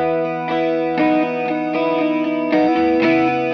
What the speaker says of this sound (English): By comparison, the CE-2w is a much warmer, kind of chewier pedal, which sounds like this.